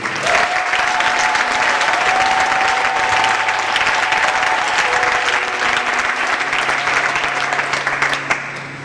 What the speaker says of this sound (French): Est-ce que nous pouvons acclamer pour ce grand homme de Dieu?